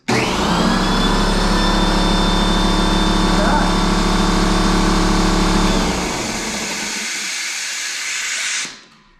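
A Husky 27 gallon air compressor runs loud and steady, motor humming with a bright whine and airy hiss, then drops to a quieter hiss after about six seconds before cutting off abruptly near the end.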